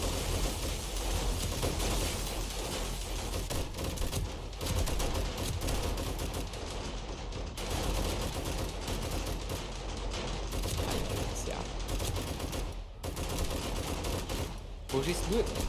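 Bursts of automatic gunfire crackle through the survival video game 7 Days to Die, sustained and fairly loud over a noisy backdrop, while players talk over it.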